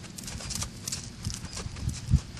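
Horse walking straight over ground poles in a training maze, soft hoof thuds on ground, with one firmer knock near the end; steady faint outdoor background.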